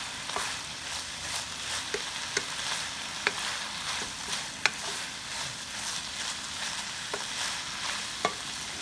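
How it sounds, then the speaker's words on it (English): Carrots and vegetables stir-fry for Thai pork fried rice in a hot pan, giving a continuous close sizzle broken by regular, sharp scrapes and taps of the utensil against the pan. "we'll just cook those carrots and vegetables through just a little bit"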